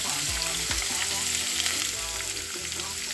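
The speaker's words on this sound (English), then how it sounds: "put in the onion, the garlic, and the scotch bonnet" Onion, garlic and scotch bonnet frying in a pan give a strong, continuous close-up sizzle, steady for the whole stretch under a faint tonal background, with no talking.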